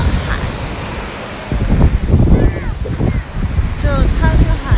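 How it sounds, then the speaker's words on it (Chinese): Sea waves on a hotel beach in Cancun, a loud washing surf with wind gusting across the microphone, waves surging and receding while a voice talks over them. "这是我们宾馆的海"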